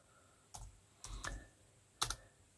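Typing on a computer keyboard while entering code for a Raspberry Pi Pico display module, three short clusters of close, quiet key clicks separated by pauses.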